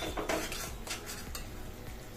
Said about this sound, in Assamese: দি গোটেইখিনি ভালদৰে লৰাই দিছোঁ